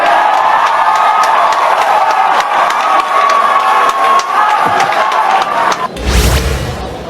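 Rally crowd chanting and shouting in unison, a loud sustained massed roar that carries on steadily, then ends in a sudden burst of heavy thumping noise.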